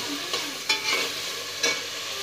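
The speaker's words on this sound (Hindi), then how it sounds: "इनको पहले फ्राई करना है अच्छे से" Eggplant pieces fry in hot oil in a pan for a Pakistani aloo baingan salan, a steady sizzle broken by a few sharp scraping stirs, close and alone with no voices.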